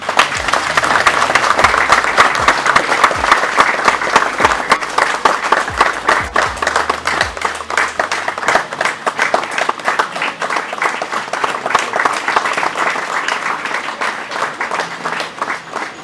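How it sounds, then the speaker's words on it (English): Sustained applause from a large crowd, continuous dense hand clapping that holds steady for the whole stretch. "Let us welcome the Deputy President and his entourage by clapping hands"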